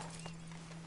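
Horse hooves in Red Dead Redemption 2 Online clip-clop steadily at a moderate distance over a constant low hum and background noise.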